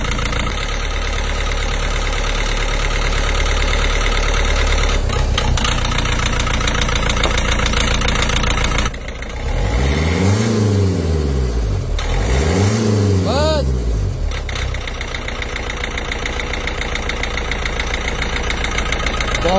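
A faulty car engine idles roughly with a persistent knock, then revs up twice in rising and falling surges before settling back, loud and close, with mechanics talking over it.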